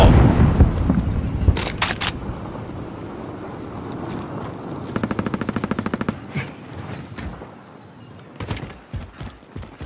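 Hostile automatic gunfire in the battle royale game Warzone on Rebirth Island: rapid bursts rattle in the middle of the clip amid other scattered shots and a busy game soundscape, with loud single cracks near the end.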